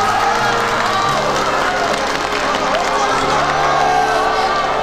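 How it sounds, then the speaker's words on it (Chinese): Crowd applause greets two assistants at a stage magic show, steady clapping and cheering from a large audience, loud and sustained throughout with background babble. "下面用热烈掌声欢迎我两位漂亮迷人的助理小姐"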